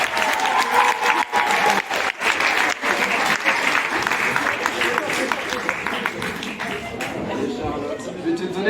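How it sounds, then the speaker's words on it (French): Audience at a live comedy show applauding as a volunteer comes up on stage, steady dense clapping from a full room with some chatter mixed in. "tu vas pouvoir venir me rejoindre sur scène dans un premier temps et on va pouvoir t'applaudir."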